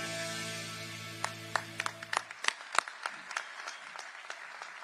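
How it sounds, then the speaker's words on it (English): An audience at a Fort Lauderdale State of the City event applauds, with separate sharp claps growing into a scattered round after music fades out, moderately loud in a large room. "Let's give our public work crews another round of applause."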